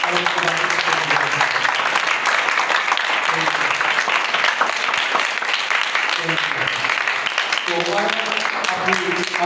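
Loud applause rises from a church congregation during a sermon on fasting, a steady, dense clapping that continues throughout while a voice speaks over it.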